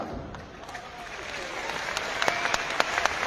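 Audience applause from a crowd at an RCM event in Delhi, steady clapping at moderate distance with a few sharper individual claps standing out for about three seconds.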